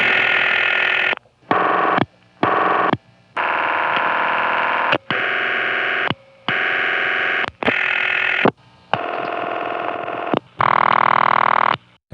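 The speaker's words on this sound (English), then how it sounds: "But there is variety in the various raucous ringtones." A series of harsh, buzzy telephone exchange ring tones from Greenfield, Massachusetts in 1975, in bursts separated by short silences, loud and distorted like an old recording, with the final tone steadier and brighter.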